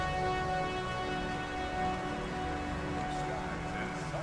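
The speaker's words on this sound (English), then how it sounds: "you can hear the sounds of rain and traffic and ads for" Steady rain falls over a rainy Neo-LA city street in the Blade Runner video game, a soft continuous patter mixed with a low hum and faint traffic-like tones. It plays as quiet ambience without speech.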